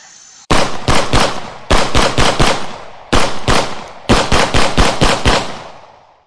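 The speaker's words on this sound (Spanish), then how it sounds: "el sonido de los disparos y las explosiones resonaba por todas partes" A loud, close burst of machine-gun fire and explosions in a Colombian jungle battle, heard as rapid rattling volleys in four clustered runs separated by short gaps, with no voices.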